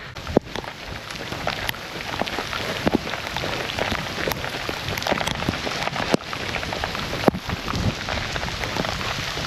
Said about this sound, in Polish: Z takiej patelni na taką ulewę.